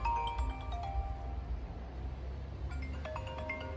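A mobile phone ringtone plays a short melodic pattern of clear tones, moderately loud, over a low indoor rumble, repeating after a brief pause.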